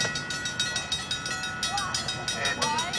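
An ACE commuter train rolls past Amador Valley High School, steady rumble with rhythmic clickety-clack of wheels over rail joints close by, plus a faint squeal, under background noise.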